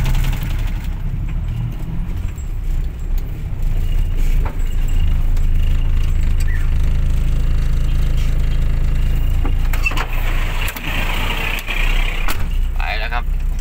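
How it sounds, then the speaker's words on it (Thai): A ten-wheel truck passes on a village road in Buriram: a heavy, loud, continuous low engine rumble dominates throughout, with some hiss and rattles near the end. "มาเจอกับรถ10ล้อครับ ต้องถอยครับพี่ใหญ่มาน้องเล็กอย่างเราต้องหลบ"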